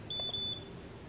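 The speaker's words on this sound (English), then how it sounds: "Warming up, it said. It's just doing a lot of beeping." A printer warming up gives a short, shrill electronic beep, two close pulses in quick succession, alone against quiet room tone.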